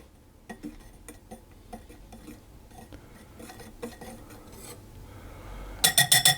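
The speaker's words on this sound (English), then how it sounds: "pour the mixed spice, the cinnamon and the salt into our flour and just give that a stir around" Mixed spice, cinnamon and salt are stirred into flour in a bowl, making close scraping and rubbing strokes with light utensil ticks, repeated in an uneven rhythm and ending in a few louder clinks.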